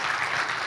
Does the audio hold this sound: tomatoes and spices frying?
no